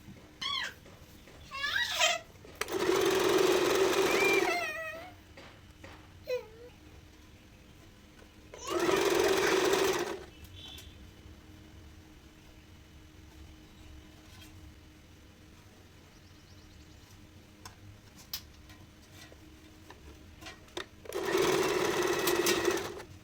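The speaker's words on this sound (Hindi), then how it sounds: "इसको ऐसे फोल्ड करके सिलाई लगाते जाना है" Sewing machine stitching a folded cloth belt, heard in three loud bursts of rapid whirring with quiet handling noise between them.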